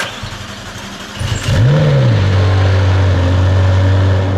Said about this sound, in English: We'll get a start up.